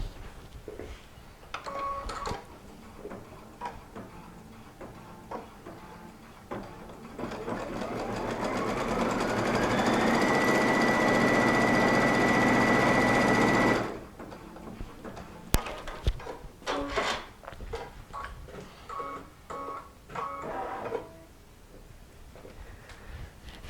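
Sewing machine stitching a line on a fabric strip, a loud steady whirring run that ramps up in pitch and holds for several seconds, framed by scattered clicks and handling taps before and after.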